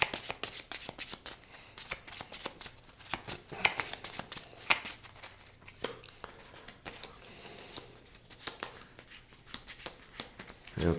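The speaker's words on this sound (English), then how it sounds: "there's 1 card, and we will shuffle" A deck of cards for the Clank! Catacombs board game is shuffled repeatedly on a tabletop, giving a steady run of close, crisp riffling and snapping bursts with no talking.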